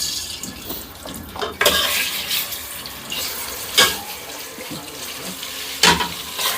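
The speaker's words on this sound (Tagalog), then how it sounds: "Naghuhugas na ng pinaggamitan." A kitchen tap runs steadily while used pots and utensils are washed after cooking, with clinks and knocks of metal cookware rising over the flowing water at a few moments.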